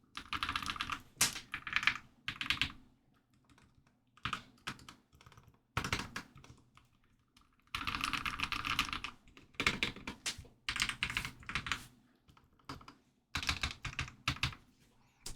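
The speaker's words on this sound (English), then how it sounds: "let's see the difference in the typing sound. So this is with the P form and nothing else." Bursts of typing on a modded Anne Pro 2 keyboard fitted with PE foam, a steady run of close, crisp keystrokes broken by short pauses, with no voice present.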